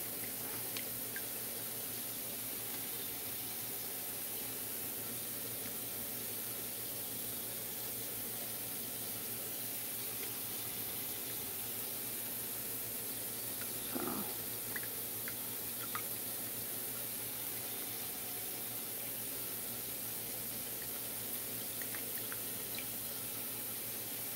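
Tap water runs steadily into a kitchen sink while raw potatoes are rinsed under it, a faint continuous wash with small splashes and no talking.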